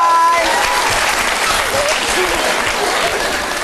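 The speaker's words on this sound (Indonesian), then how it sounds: "tepuk tangan Umai" Loud, dense applause from a studio audience for a young child named Umai, steady and sustained throughout with no pauses.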